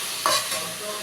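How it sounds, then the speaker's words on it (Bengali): Prawns frying in a small amount of oil, an even close sizzle with a quick stirring clink near the start, no voices. "অল্প করে তেল দিয়ে এগুলো ভেজে নিই।"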